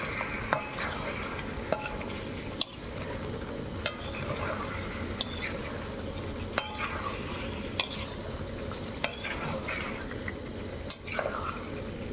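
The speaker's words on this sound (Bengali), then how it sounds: "তো মাংসটা একটু কষিয়ে নিই ভালোভাবে" Chicken meat stir-fried in a pan for a Bengali chicken and potato curry, with a steady broadband sizzle, sharp spatula scrapes and clicks recurring every second or so throughout, close and moderately loud, with no talking.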